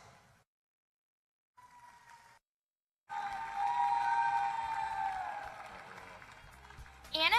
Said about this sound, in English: Let's give a round of applause as we introduce our future owls from across the state.